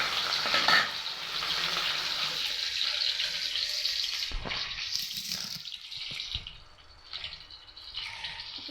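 Onion sizzles and crackles loudly in a hot wok, a dense frying hiss that persists with a few clatters of stirring and then eases slightly toward the end.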